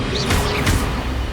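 Spell effect from the Hogwarts Legacy video game as the Expelliarmus disarming charm is cast: a short whooshing crash with a bright swishing sweep, loud and close, over continuous game background sound.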